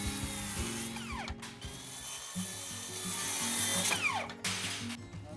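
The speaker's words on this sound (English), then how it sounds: "So I measure and cut the ends after I secure all the rafters." A veteran Japanese carpenter cuts the ends of wooden rafters with a saw, making close, rhythmic rasping strokes over a low motor hum, a short pause midway and then more steady cutting, with no talking.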